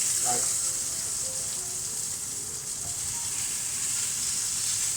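Vinegary silver skin onions sizzle in a hot pan with a constant bright hiss that holds steady from start to finish, with faint low knocks underneath.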